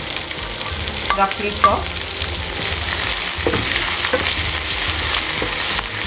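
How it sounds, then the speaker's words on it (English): Sliced onion, ginger and garlic fry in a pan for a spicy mutton curry, giving a steady close sizzle with occasional clinks and scrapes of stirring. A voice speaks briefly. "Now I'll be adding some sliced onion, ginger and garlic,"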